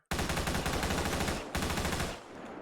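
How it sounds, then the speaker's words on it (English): Sustained burst of SMG fire in the FiveM video game, a loud rapid stream of shots lasting about two seconds, then a brief break and a short trailing burst that fades out with a dragging echo. "Switch over to the SMG."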